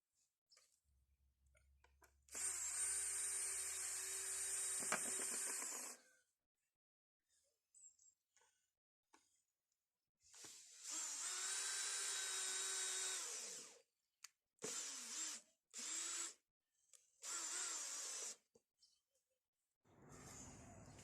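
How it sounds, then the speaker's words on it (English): A power drill bores through C24 4x2 construction-grade timber for a conservatory frame, with two sustained loud runs and several shorter bursts separated by quiet pauses and small clicks. "Right, so I'm drilling through it"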